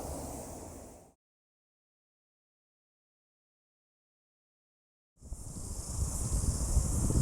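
Cicadas buzz from a eucalyptus tree outdoors, a steady high hiss that cuts out for several seconds and then returns loud, with a low rumble underneath.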